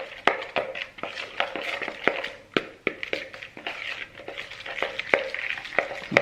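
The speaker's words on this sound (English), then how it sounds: "I'm just going to try and get this off the spoon and give it a bit of a mix." Spoon stirring a thick peanut tempeh marinade in a bowl, with sharp repeated clinks and taps against the side and soft wet smearing in between, close and fairly quiet, with no talking.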